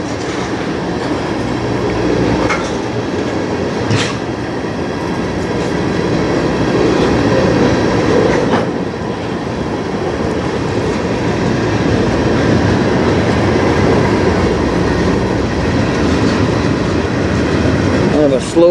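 Long, slow freight train rolling past at close range in Sarnia, Ontario, with a continuous heavy rumble, rhythmic clickety-clack of wheels over rail joints and occasional squeals, lasting the whole stretch.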